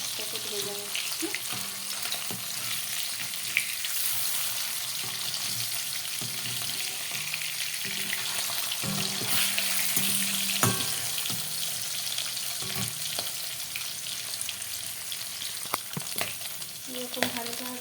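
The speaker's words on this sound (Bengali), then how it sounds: "তো সেজন্য আমি হালকা হাতেই মাছটাকে ভেজে নিচ্ছি।" Hilsa fish fries lightly in a pan with a steady close sizzle, broken by occasional scrapes and clinks of a utensil, with no speech.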